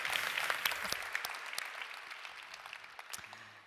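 Applause follows a presentation at an online event, a quiet, distant-sounding patter of claps that starts fuller and gradually fades, with scattered individual claps near the end.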